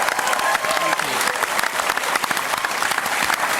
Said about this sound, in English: a round of applause for Tripod